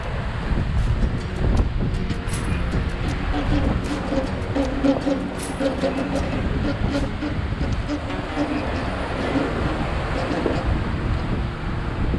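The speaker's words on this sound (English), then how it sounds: "the wind was lightening up" Wind roars steadily and loudly across a sailboat at sea in the Roaring Forties, a constant rushing, buffeting noise that lasts the whole clip. Faint voices may sit beneath it.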